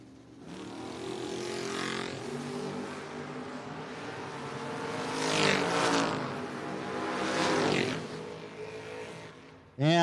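Drag race run between an El Camino and an orange 1980 Camaro at a no-box 660 shootout: loud, steady roar of engines with two swelling passes as the cars accelerate, far-to-near, with a sharp burst at the end.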